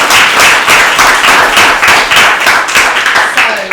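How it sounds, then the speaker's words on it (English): An audience at a tech-industry breakfast briefing on mental health gives a loud, close round of applause, dense rhythmic clapping in steady waves that holds for several seconds and begins to thin toward the end. "Round of applause."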